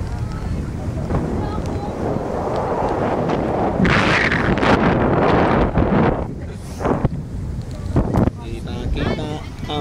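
A small outrigger boat (bangka) motors across open water on a trip to Talikud, Samal, with strong wind buffeting throughout and sea noise, while voices chatter and call out intermittently over it.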